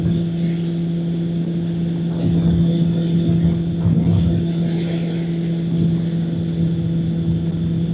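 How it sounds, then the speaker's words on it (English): A Kawasaki ZL900 motorcycle engine runs hard while passing traffic on the road. A steady, loud drone with a strong hum continues for the whole stretch, along with wind rush, and there is no speech. "this bike doesn't have any problem passing people"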